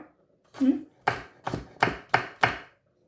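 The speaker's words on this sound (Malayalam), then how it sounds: "ഞാനിങ്ങനെ ഈ ബീൻസൊക്കെ അരിഞ്ഞിട്ട് നമുക്ക് തോരൻ വയ്ക്കാം" Green beans are chopped with a knife on a board: one soft knock and then five sharp, evenly spaced chops, close and distinct against a quiet background.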